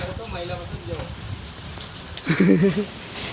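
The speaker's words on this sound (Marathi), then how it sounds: "पाऊस पडतोय." Steady patter of rain fills the background while people talk briefly over it, one voice louder near the end.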